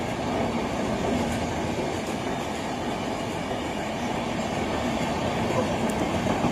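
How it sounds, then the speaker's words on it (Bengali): The Darjeeling Mail rushes past at high speed, a loud, steady roar of wheels and carriages filling the whole stretch, close to the track, with faint clickety-clack. "ডাউন দার্জিলিং মেল একদম ঝড়ের গতিতে বেরিয়ে যাচ্ছে"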